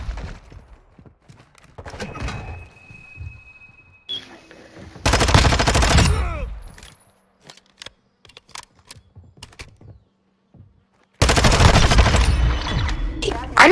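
Sniper rifle fire from a multiplayer shooter video game, with a few loud sustained gunfire bursts separated by quieter gaps of clicks and faint game sounds.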